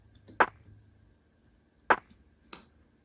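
A sparse, muffled lo-fi drum beat with a low-pass-filtered snare plays three dry, sharp hits with soft decays, spaced irregularly over a quiet background.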